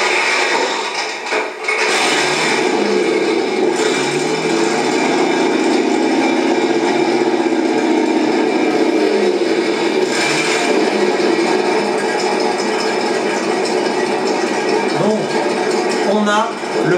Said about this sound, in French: On a le moteur au ralenti.